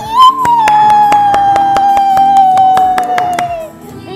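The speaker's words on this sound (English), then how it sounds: "If you clap for yourself, clap, clap, clap." A small child's hands clap in a quick run of sharp, close claps, about a dozen in a row, over a sustained high sung or squealed tone and other voices.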